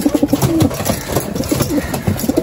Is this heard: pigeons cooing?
yes